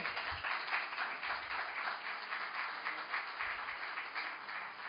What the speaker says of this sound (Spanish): Al Señor ese aplauso.